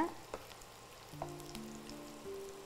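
Spring roll sticks frying in hot oil, a quiet, steady sizzle close by with a few soft clicks and bumps of handling, and a low tonal hum in the background.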